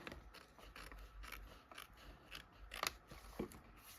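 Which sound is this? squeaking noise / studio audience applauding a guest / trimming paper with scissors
trimming paper with scissors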